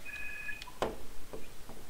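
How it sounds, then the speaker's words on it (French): A telephone gives brief electronic beeps and tones, faint and short, in a quiet room with no voices. "Ah, désolé pour le téléphone."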